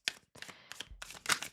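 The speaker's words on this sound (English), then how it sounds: "I don't like shuffling any other way than this" Tarot cards shuffled by hand during a zodiac love reading, giving several short papery riffling bursts separated by brief pauses, close and fairly soft.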